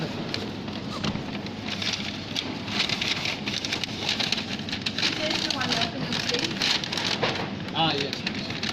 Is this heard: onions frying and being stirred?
no